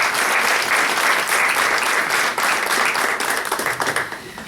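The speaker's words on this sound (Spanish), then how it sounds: "un fuerte aplauso para la Karina, para Adriana y para Álvaro," Steady applause from an audience at a Spanish-language novel launch, dense clapping that holds evenly for several seconds before thinning slightly at the end.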